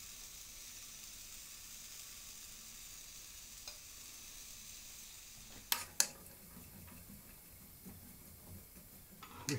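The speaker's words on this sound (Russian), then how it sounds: "И ставим жариться, пассероваться лук с морковкой." Onion and carrot sizzle softly in oil in a frying pan, a steady low hiss broken by a few sharp clicks and taps partway through.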